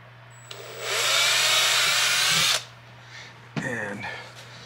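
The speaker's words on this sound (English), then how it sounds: "nothing like drilling holes in your brand new car" A power drill whirs loudly and steadily for about two seconds, drilling a hole in a Polaris RZR Pro, then stops; a short clatter and rustle follow.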